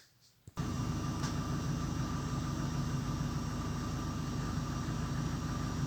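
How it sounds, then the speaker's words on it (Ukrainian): An Opel Astra H engine restarts after a stretch of quiet, then settles straight into a steady, fairly loud idle that holds evenly to the end. "І зараз спробуємо їх скинути і попробуємо перезапустити машину."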